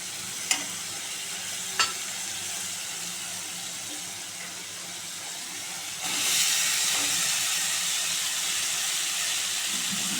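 Taro stolons tipped into spice paste already fried down in a pan, with two sharp clatters early on, then a louder, steady steamy sizzle and stirring that swells partway through and holds to the end, no voices.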